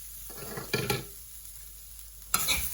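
Tamarind, shallots and grated coconut are sautéed in a pan for a Tamil pirandai chutney, giving a soft frying hiss with two louder bursts of spatula scraping and stirring, close and without speech.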